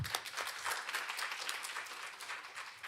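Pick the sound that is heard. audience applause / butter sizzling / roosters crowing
audience applause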